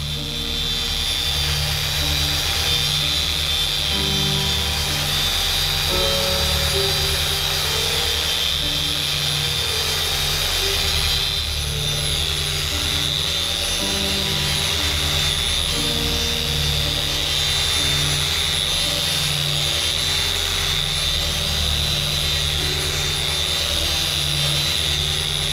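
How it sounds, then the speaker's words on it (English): A dual action polisher buffs a painted airbrush artwork panel at its highest speed, giving a loud, steady high-pitched whine with a constant motor drone that runs without a break and with no talking. "my dual action polisher is running on high"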